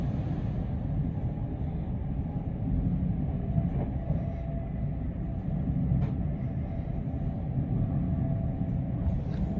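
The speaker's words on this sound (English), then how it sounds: "There's a Bakerloo Line train past." A London Underground Bakerloo Line train rumbles past at a steady roar, low and heavy, with rattling wheels and faint squeaks, heard continuously for several seconds.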